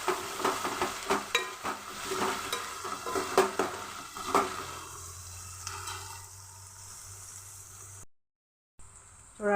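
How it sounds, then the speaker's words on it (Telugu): Chilies and onions fry in a pan, giving a steady crackling sizzle broken by repeated stirring scrapes, fading to a quieter simmer before a brief cutout. "చూడండి, మిరపకాయలు ఉల్లిగడ్డలు అయితే మంచిగా ఫ్రై అవుతున్నాయి."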